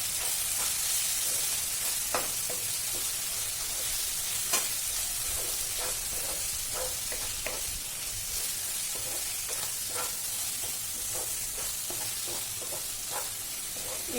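Mutton masala paste of ground onion sizzles steadily in hot oil in a pan, with frequent scraping stirs of a spatula ringing out over a constant frying hiss, close and moderately loud.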